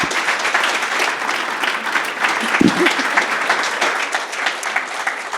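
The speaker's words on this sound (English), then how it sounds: "Give them a round of applause." Audience applause at a sports broadcasting awards ceremony, a continuous wash of many hands clapping throughout, loud and even, with a brief voice or cheer mixed in.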